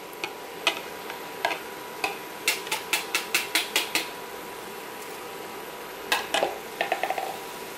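Thick, gloppy Szechuan sauce stirred through broccoli in a pan, heard as a series of sharp utensil clicks and taps against the pan, some in quick bursts, close and fairly crisp with no talking.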